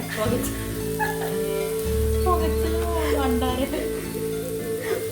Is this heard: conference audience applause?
no